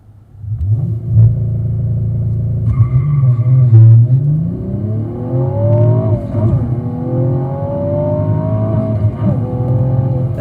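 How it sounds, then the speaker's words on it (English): A 2016 Cadillac ATS-V Coupe engine with a six-speed manual transmission revs hard, its pitch climbing steadily as it accelerates, loud and close, with no talking. "As the revs keep climbing."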